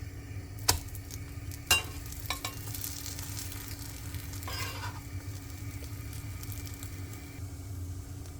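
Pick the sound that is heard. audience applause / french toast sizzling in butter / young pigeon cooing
french toast sizzling in butter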